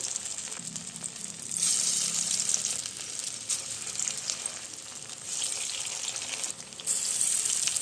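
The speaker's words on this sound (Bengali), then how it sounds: "এইভাবে সবগুলো আমি ভেজে নেব" Jackfruit fritters fry in oil with a continuous close sizzle that rises and dips in waves as pieces are added and turned.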